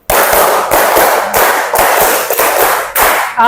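A fourth-grade class claps a patterned rhythm in unison in a classroom, a steady run of loud group claps with short regular accents, close and without voices.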